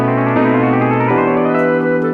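Synthesizer one-shot from a song, a bright, echoing, distorted sustained tone that steps down and then shifts pitch twice, heard alone.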